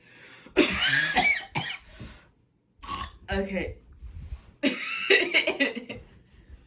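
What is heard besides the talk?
coughing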